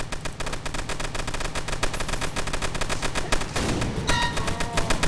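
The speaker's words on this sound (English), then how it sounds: "also the sound of deploy got changed as well" Deploying a tower in Roblox Tower Battles sets off a loud, rapid burst of gunfire-like cracks that runs continuously and dense, with a sharper metallic flourish near the end.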